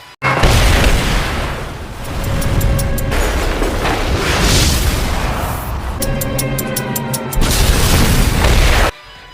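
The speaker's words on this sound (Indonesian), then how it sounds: "Dengan bom di tangan mereka, seluruh markas utama Jepang dihancurkan sahabat-sahabat Chen Zhen." Bombs blowing up the main Japanese headquarters in a martial-arts film, heard as a loud continuous series of deep booms and blasts with rumbling debris across the whole stretch, no talking.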